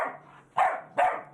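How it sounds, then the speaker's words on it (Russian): A young mixed-breed puppy guarding its new home barks three times in a row, sharp, fairly high-pitched yaps close to the microphone, separated by short pauses. "Бойкий щенок грозно лает на гостей с телекамерой"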